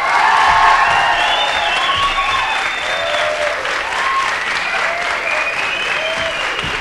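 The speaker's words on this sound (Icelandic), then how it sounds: "gefum hann gott klapp" A studio audience claps loudly and steadily for a five-year-old winner on a children's television show, dense applause with a few cheers and voices mixed in throughout.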